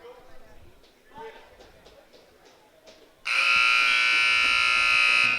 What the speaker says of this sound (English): The buzzer signifying the end of the first period, first 2-minute period.